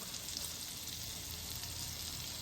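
Whole spices including cinnamon, cloves and cardamom crackle in hot oil and melting butter, giving a steady, soft, close hiss of frying with no pauses.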